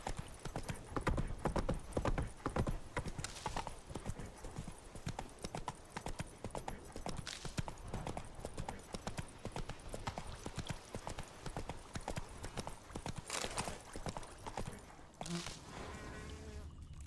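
Horse hooves clip-clop at an even, steady trot in The Witcher 3, close and continuous, with a brief whinny near the end and a quiet voice at points.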